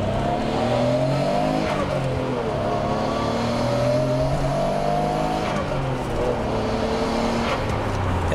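Nissan Skyline GTR R32 V-Spec II N1 accelerating hard, its engine note rising through gears in loud repeated sweeps with brief drops at shifts, heard from nearby.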